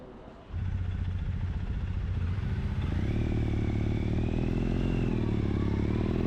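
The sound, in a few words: Triumph Bonneville motorcycle riding on the road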